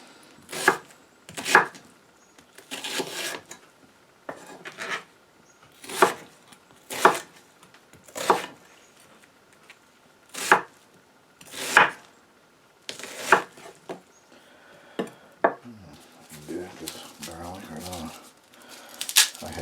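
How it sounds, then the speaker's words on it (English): Vegetables rough-chopped with a knife on a board in a cabin kitchen, sharp evenly spaced thuds about one per second, close and clear, with a voice talking softly in between. "so just a rough chop will do."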